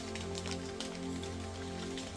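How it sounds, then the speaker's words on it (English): Drops of water from a light drizzle falling off tree leaves outdoors in nature: a soft, continuous patter of scattered drips under a low steady hum. "It had been raining, so raindrops, water falling from the leaves of the trees."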